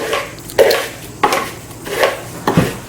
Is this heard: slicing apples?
yes